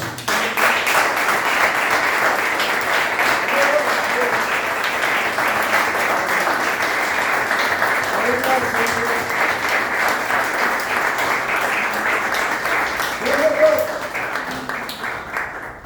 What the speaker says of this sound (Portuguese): Vamos dar uma salva de palmas, Senhor.